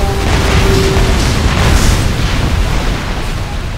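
Anti-air gun explosion in the combat flight game Ace Combat: Assault Horizon, a loud sustained roaring blast rumble lasting several seconds, slowly tapering with no talking.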